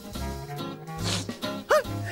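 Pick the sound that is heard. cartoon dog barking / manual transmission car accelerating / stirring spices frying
cartoon dog barking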